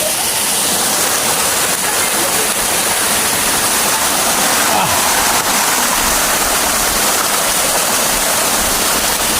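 A waterfall pours from above into a pool, a loud, constant, broadband rush of falling water with no break throughout.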